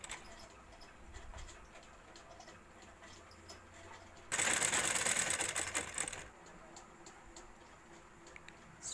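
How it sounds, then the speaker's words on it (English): A sewing machine stitches the top side of a small handbag: a steady, fast mechanical whirr runs for about two seconds over a quiet workshop background, louder than the surrounding room noise. "Stitch the top side."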